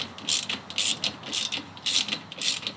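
Ratchet cranked to tighten a cable rail, quick bursts of clicking pawl repeated in five even strokes, close and crisp with no talking.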